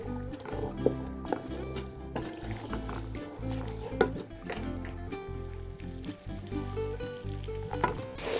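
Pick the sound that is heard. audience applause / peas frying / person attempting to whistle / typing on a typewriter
peas frying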